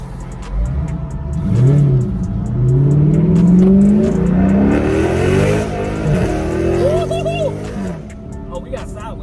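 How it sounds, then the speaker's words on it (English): A car engine rumbles and revs hard through rising gear sweeps, loud and close, then settles to a lower idle, with someone talking over parts of it. "I love the way this car sounds."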